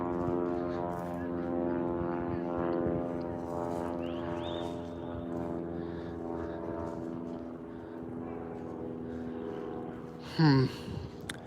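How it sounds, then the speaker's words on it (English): A propeller plane drones steadily overhead with a low humming tone throughout, and a short louder knock near the end. "And it's that same plane again."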